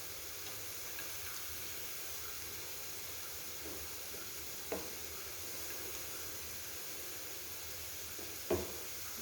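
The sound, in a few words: garlic, green chilli and ginger frying and being stirred in a pan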